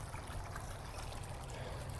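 Creek water flowing steadily, a continuous low rushing wash with a faint trickle on top, even and unbroken throughout with no voices.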